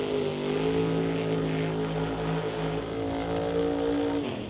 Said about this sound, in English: Burnouts complete for the Artex Racing Camaro Lordco side out at 7:07